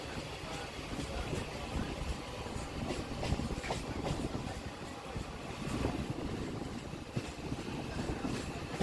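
A Bardhaman–Katwa local train rolls along the line, a steady rumbling and rattling of carriages with faint rhythmic clatter throughout, heard from on board with no talk.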